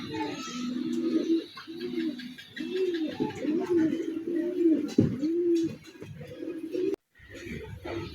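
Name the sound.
Chinese teddy pigeon cooing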